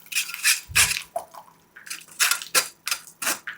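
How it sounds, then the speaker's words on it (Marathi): Strained tamarind pulp is poured into simmering water for a Maharashtrian tamarind and jaggery amti, giving irregular splashes and drips that come in uneven bursts, close and moderately loud. "या आधनामध्ये आता घालूयात चिंचेचा कोळ. गाळून घाला"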